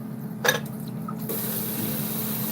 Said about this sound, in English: Now I need to get some water in the sink